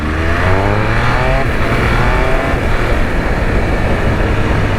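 A motorcycle engine revs loudly and close, a continuous throaty roar with rising pitch as it accelerates and then holds at high revs.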